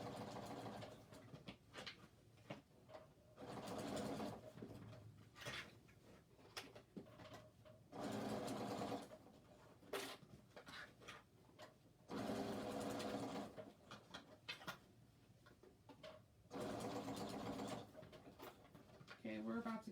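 A sewing machine stitches a seam on a criss-cross shoulder bag as it nears a very thick section, running in several bursts of a few seconds each, separated by pauses with faint talk.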